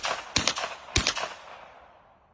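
Two sharp, loud gunshots from a suppressed FN 10mm pistol, fired about half a second apart. Each crack rings and fades briefly, and the tail dies away afterward.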